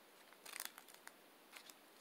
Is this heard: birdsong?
no